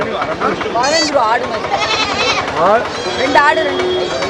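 Goats and kids bleat repeatedly at a crowded goat market, their wavering cries overlapping near and farther off, mixed with the murmur of people talking.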